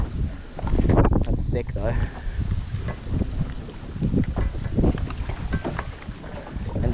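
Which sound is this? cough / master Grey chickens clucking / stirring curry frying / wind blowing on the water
wind blowing on the water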